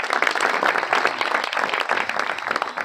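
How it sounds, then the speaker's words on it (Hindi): A church congregation breaks into applause, dense and sustained clapping from many hands filling the room evenly for a few seconds without a clear break. "जोरदार तालियां जिंदा खुदा के लिए हो जाएंगी।"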